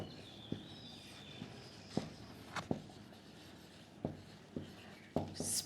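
Pen scratching while notes are written, faint scattered strokes and small taps spaced irregularly against a quiet room background.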